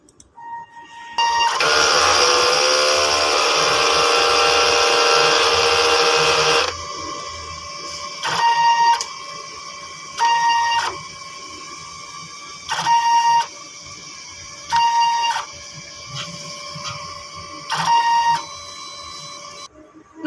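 A DTF printer runs a print head clean, first with a loud steady mechanical whir and whine for several seconds, then repeated short bursts of motor drive separated by quieter pauses, all close with no talk.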